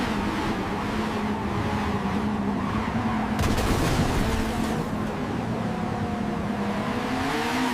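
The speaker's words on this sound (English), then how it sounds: "I wanted 3 cars to be racing in a hilly area at night" Three cars race at night through hilly terrain, a dense continuous engine roar with a brief sharp burst midway, loud and close with no voices.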